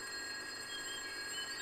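A telephone rings with a steady, continuous electronic trill, fairly faint, and no voices are heard.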